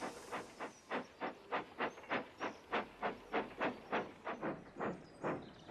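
A steam tank engine in the Trainz railway simulator chuffs in an even, rhythmic series of about fifteen hissing puffs, close and alone with no voices.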